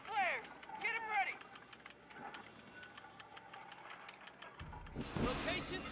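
A heavy machine gun is set up in Company of Heroes 3, with clanking, ratcheting metal mechanism sounds amid battlefield ambience, while soldiers' voices are heard and a louder burst comes near the end.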